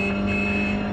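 A car engine drones steadily as the vehicle is driven, a constant, fairly loud hum with a sustained tonal whine and no voices.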